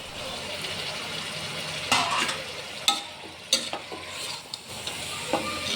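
Chicken sizzles and fries in a pan for chicken biryani, a steady low hiss broken by several louder bursts of stirring and scraping, close and fairly quiet with no talking.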